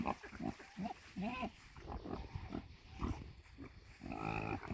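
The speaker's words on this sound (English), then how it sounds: "Oh, silly pig." Several pigs grunt and snuffle close by in a field on a farm, low rhythmic grunts repeating steadily with a few higher squeals.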